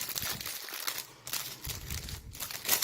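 Plastic food packaging crinkles and crackles close up as it is torn open one-handed, with irregular bursts of rustling and a short tear, no one speaking.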